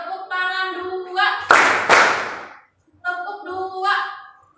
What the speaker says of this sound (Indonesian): Tepuk tangan satu,